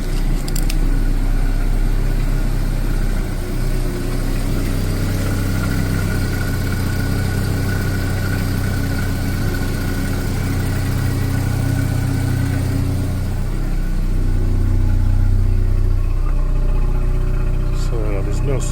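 A Mazda RX7 FC rotary engine idles steadily, its low, loud, continuous hum broken only by slight shifts in pitch. The car has coolant problems and flooding. No one speaks over it.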